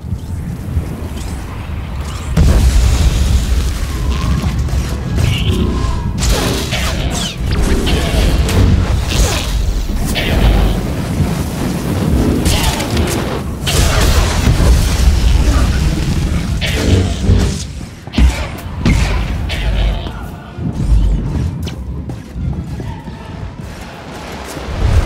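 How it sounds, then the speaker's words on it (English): A fuel tank blows up during a battle in the video game Star Wars: The Old Republic, bringing loud, deep booms and rumbling blasts that go on for most of the stretch with mechanical clanks mixed in. "The droid lit up one of the fuel tanks!"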